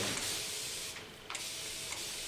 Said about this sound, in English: I apply a no yellow spray to bring out the most wonderful grey tones in the hair